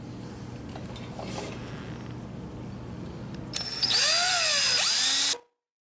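A power drill bores into an aftermarket Moose Racing motorcycle clutch perch with light pressure, a rising whine with pitch sweeps that starts midway, runs loud and close for under two seconds, then cuts off abruptly.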